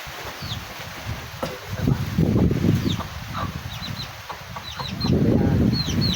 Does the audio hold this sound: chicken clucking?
yes